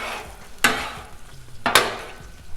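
On a Blackstone griddle, eggs fry with a low steady sizzle, broken twice by sharp scraping strokes of a spatula, and nobody talks.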